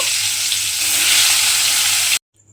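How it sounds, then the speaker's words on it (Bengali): Loud, dense sizzling of eggplant frying in hot oil, continuous and close, then cutting off abruptly to near silence. "ওই তেলের মধ্যে আবারও কিন্তু অন্য বেগুনগুলো দিয়ে লাল করে ভেজে নেব"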